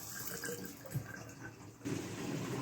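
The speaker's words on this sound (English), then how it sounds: "It doesn't look like the tap can give enough water to completely cover that emergency drain" A tap running water into a bathroom sink in a powder room, a soft steady stream with trickling splashes that grows slightly fuller partway through, close and fairly quiet.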